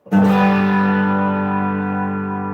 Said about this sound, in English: Now we'll engage the chorus pedal.